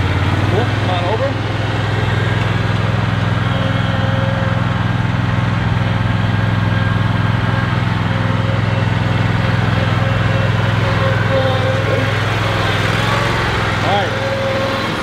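A riding lawn mower's engine runs nearby at a steady idle, holding a loud, unchanging hum for the whole stretch.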